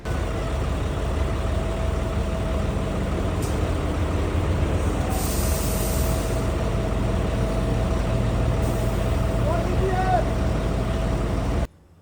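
A Kalka–Shimla toy train rumbles along steadily at close range, a continuous low mechanical drone with a few brief higher hisses partway through, running without pause until an abrupt stop at the end.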